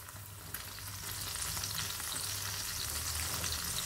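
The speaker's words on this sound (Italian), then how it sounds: "Continuiamo a far cuocere i friarellini" Friarielli fry in a pan with salt, giving a continuous bright sizzle with crackling that swells after the first second and then holds steady, close and alone.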